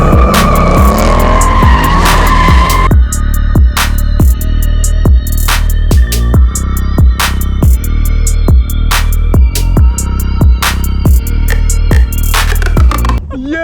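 Car tires squeal and skid loudly while drifting, a sustained screech with repeated engine revs and pulsing bursts close by, continuous and intense throughout.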